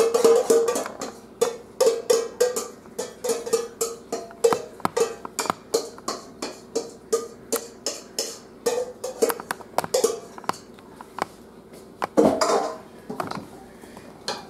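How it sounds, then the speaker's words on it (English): Asparagus being tossed with mustard garlic dressing in a bowl, a steady run of rhythmic clinks and scrapes of a utensil against the dish, close and clear with no talking. "And we're going to mix. We're basically just going to coat everything in the mustard garlic dressing."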